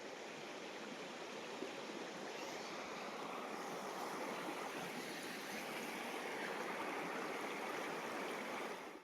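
A Konkan river flowing, a continuous broad rushing wash of water that stays steady and even throughout, close and fairly full, with no talk heard.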